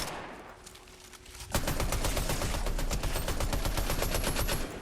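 Rapid bursts of automatic gunfire from a video game shooter start abruptly after a quiet stretch and continue loud and dense until the end, with no talk over them.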